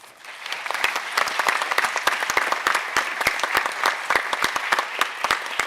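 Applause for honored school staff at a city school board meeting, a steady round of clapping from a modest indoor audience with sharp individual claps standing out, holding at a fairly even level throughout.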